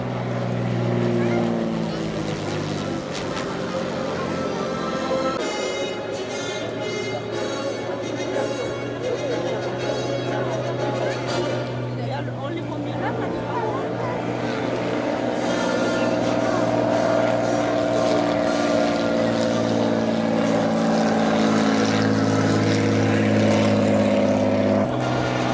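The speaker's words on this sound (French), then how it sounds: "Et cet avion, c'est un avion 33 que vous voyez devant nous." Vintage propeller aircraft built in 1949 running its engine at an autumn air show in Gimont, Gers, a sustained droning propeller hum with shifting pitch, under someone talking.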